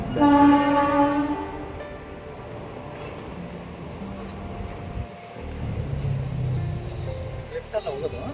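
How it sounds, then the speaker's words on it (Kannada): A passing train near Alleppey, Kerala, its horn sounding loud and sustained at the start, then a steady rumble of rail cars rolling by, with people talking nearby over the noise. "ಸೊ ಟ್ರೈನ್ ಹೋಗ್ತಿದ್ದೆ ನೋಡ್ಬೋದಲ್ಲಿ."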